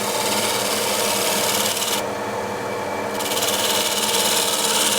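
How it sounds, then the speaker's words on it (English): A card scraper used as a shear scraper on a wooden workpiece, producing a continuous dense rasping hiss with a brief lighter patch in the middle, close and loud with no talk. "with the scraper, just want to refine this, use it as a shear scraper."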